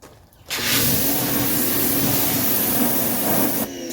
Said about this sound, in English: spray the pressure washer down in the drain holes to make sure everything's clear